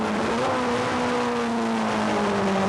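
A 1600cc Class D Toyota racing car engine drones steadily on a track during a 1989 British Touring Car Championship race, a sustained loud engine tone with slight pitch shifts, close and alone.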